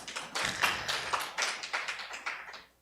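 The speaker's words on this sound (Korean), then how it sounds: "자, 박수 한번 주십시오." A church congregation claps briefly, a quick run of light, rhythmic claps from a small group that fades out after a few seconds.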